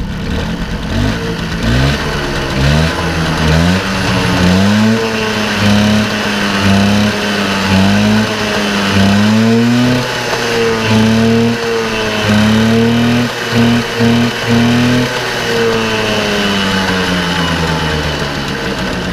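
A cold 1986 Peugeot 103 MR moped engine runs steadily after starting, with a mid-pitched hum, its revs rising and falling in gentle waves, loud and close, with no talking.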